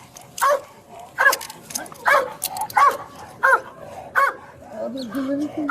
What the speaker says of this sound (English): So I don't know if you can hear with the dog barking there